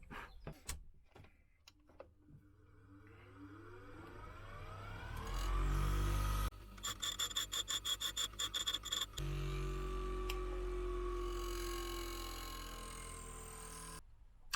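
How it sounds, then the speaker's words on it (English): Angle grinder keying the base of an antler handle so a ferro rod can be epoxied in, heard as a loud, sustained whirring grind with rising pitch and a rapid chattering stretch in the middle, with no talking. "So I've just keyed around the bottom there with a grinder."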